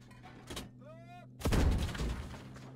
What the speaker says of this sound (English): Ben, just keep firing. Keep firing.